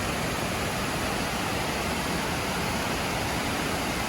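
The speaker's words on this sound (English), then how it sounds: "These are the top falls." Upper falls of a creek waterfall pouring steadily, a loud, dense and unbroken rush of water heard up close with no voices.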